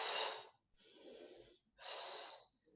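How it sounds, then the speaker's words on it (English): Three close, strong breaths out, rushing and slightly snorting, during a kick-back exercise in a bootcamp workout class, each one short and separated by brief pauses. "Breathing out as you kick back."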